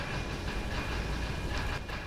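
Steady rumbling roll of a train car on rails in Factorio, a continuous loud clatter and hiss with no break, heard on its own.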